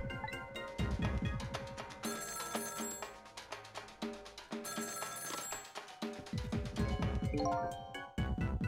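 An internal telephone in a dark video game rings in repeated electronic bell bursts, layered with busy game music and jingly tones, fairly loud and continuous throughout.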